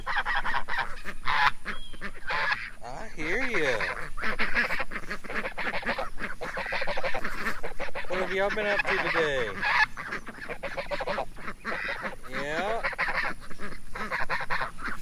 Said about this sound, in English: These geese are starting to sound like their parents